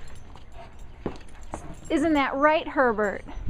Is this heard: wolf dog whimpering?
yes